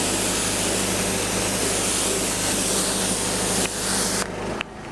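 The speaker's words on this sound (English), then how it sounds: "I then rinse it down and off the bonnet." Steady broadband hiss of a water spray rinsing down the bonnet of a Mercedes C43 AMG, loud and close with a constant low hum underneath, cutting off near the end.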